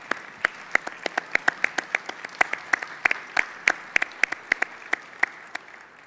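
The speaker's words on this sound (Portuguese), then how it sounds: "Palmas para eles," A small audience at a literary festival panel applauds the speakers, with sparse, distinct individual claps ringing out in an uneven rhythm over a quiet room.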